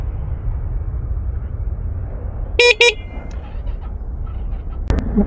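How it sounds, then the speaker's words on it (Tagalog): A car horn sounds two short, loud honks in quick succession against a low hum of traffic, followed by a sharp click, with people talking nearby. "Pero mayroon pang busina no."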